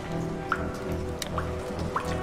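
Splashing through water in the video game Jenny LeClue: three small, drippy splashes at a steady pace, soft and fairly close, over a constant low background hum.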